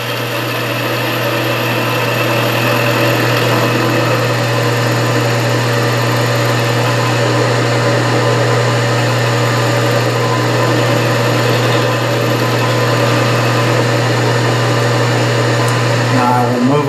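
A milling machine runs an end mill cutting a scissor knurl, producing a loud, steady motor whine with a constant low hum throughout and no clear breaks.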